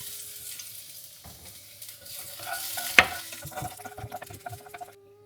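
Chopped garlic drops into hot oil and sizzles close up, a crackling fry broken by scraping stirs and one sharp clink of a utensil, with no talking.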